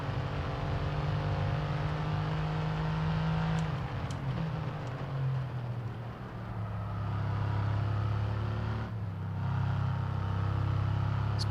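A supercar engine in the racing game F1 22 roars continuously, shifting pitch as it accelerates and brakes through gears, with a deep steady growl and a sharp change near the end, without talk.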